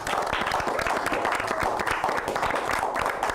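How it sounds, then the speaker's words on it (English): Dense applause from a game-show audience as two contestants are introduced, a thick steady patter of many hands clapping close by without pause for a few seconds. "A round of applause."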